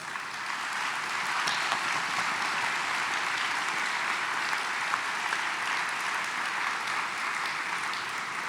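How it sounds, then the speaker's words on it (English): At an anniversary awards luncheon, a seated audience gives event staff a round of applause, a dense, even wash of many hands clapping at a moderate distance, holding steady throughout. "can give you a round of applause"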